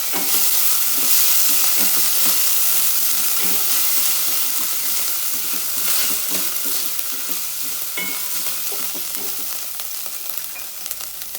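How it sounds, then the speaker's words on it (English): Freshly crushed ginger and garlic sizzle steadily in a hot pan as they are tossed, a dense continuous frying hiss with soft scraping and stirring knocks, close and loud throughout with no talking. "then goes the freshly crushed ginger garlic. Give it a toss."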